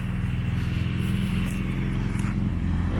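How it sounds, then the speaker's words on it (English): A motorcycle passes by along a road near a trail, its engine a steady mid-distance drone that holds at moderate loudness and fades slightly toward the end. "There's a motorcycle."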